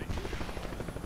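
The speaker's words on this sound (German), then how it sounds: "Das ist schon wieder unser Heli ohne Waffen, der schießen kann." Helicopter rotor chopping in the video game Narco Terror, a steady loud low thrum with fast rhythmic beating filling the whole moment, no talk over it.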